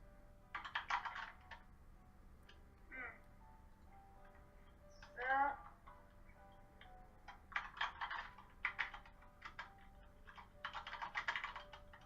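Faint, irregular clicking of computer keyboard keys in short bursts while a father and child write HTML code, with quiet stretches between the typing runs.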